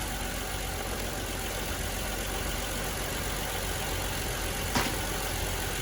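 A 2008 Hyundai Veracruz V6 idles steadily with its freshly replaced alternator charging, a constant close engine hum with no talking and one brief faint click near the end.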